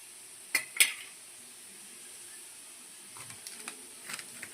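Garlic cloves frying in a pan over low heat for spicy garlic Maggi noodles, a soft steady sizzle with a couple of sharp utensil clinks against the pan and lighter scraping taps later.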